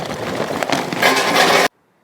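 Lumps of charcoal poured into a firebox basket on a barbecue smoker, a dense rattling, clattering scrape that builds louder partway through and stops abruptly, leaving silence.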